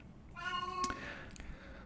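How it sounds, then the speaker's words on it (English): A house cat lets out a single clear, drawn-out meow, close and moderately loud against a quiet indoor background, followed by a faint click. "sorry about my cat making noises"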